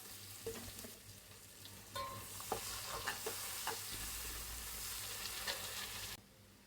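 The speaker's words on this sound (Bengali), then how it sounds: "ভাজা তেলের মধ্যে আমি পেঁয়াজটা দিয়ে দিলাম" Onions sizzle steadily in oil previously used to fry koi fish, with occasional scrapes and clinks of stirring, close up and no voices.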